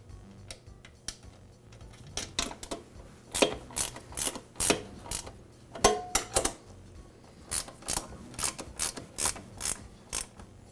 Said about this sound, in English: And I'll secure it with the nuts.